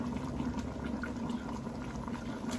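Water at a rolling boil inside a can cooker for a seafood boil, a steady, quiet bubbling and hissing that stays even throughout without voices.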